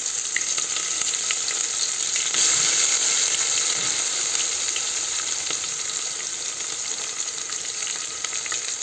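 Onion frying in a pan with bay leaf and whole spices over lowered gas, a steady bright hiss and crackle with faint scraping as it is stirred, no talking.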